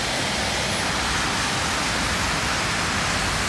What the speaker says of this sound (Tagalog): Ayan siya guys, bumabaha na.